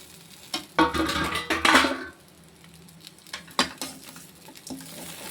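Cooked rice is mixed into a coconut mixture in a pan for coconut rice, with a spoon scraping and clattering against the metal in uneven bursts, close and alone with a faint background hiss.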